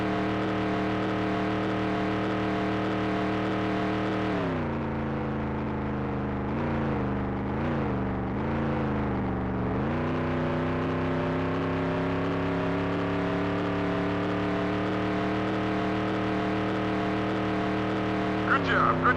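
Race car engine in the NASCAR 98 video game on a qualifying lap, a steady loud harmonic drone that dips and surges mid-lap through corners before holding a constant high pitch, with a brief knock near the end.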